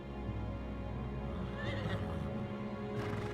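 A horse in the action role-playing game Final Fantasy XVI gives a clear neigh midway through, heard over a dense, steady ambient backdrop with faint hoof clatter and no speech.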